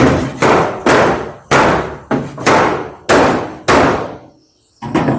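Hammer strikes on the roof panel of a 1935 Ford Coupe, about nine loud, close metallic blows in an irregular rhythm, each ringing briefly before the next, with one short pause near the end.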